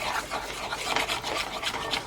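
Flour being whisked little by little into melted butter in a pot for homemade chicken noodle soup, a steady close scraping and rasping texture that continues without pause.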